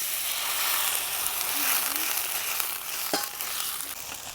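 A tempering of spices for khaman dhokla sizzles steadily and fairly loudly after a pinch of sugar and a little water go into it, with one brief clink partway through and no voices.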